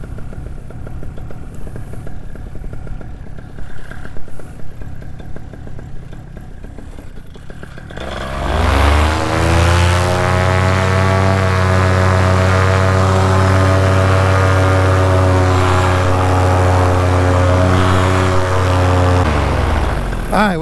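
A home-built Macnitrorazi 80 paramotor engine starts after a stretch of low background noise, then runs steadily and loud at close range with a strong, even drone and sustained revving, holding high for about twelve seconds before cutting off.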